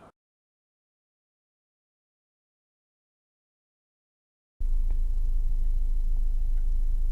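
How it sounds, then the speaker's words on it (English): Volkswagen B5 with a 1.8T AWM engine idling, a steady low rumble that starts abruptly after a long silence and holds evenly to the end with no talk. "the engine's at idle right now"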